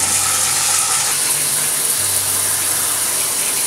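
A shower runs as a steady, dense rush of falling water. It is loud and unbroken throughout, with no voices over it.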